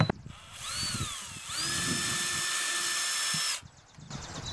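A power drill whines as it bores a pilot hole in a planter container, a rising motor pitch settling into a steady high whir for about two seconds before cutting off, close and loud, with no talk.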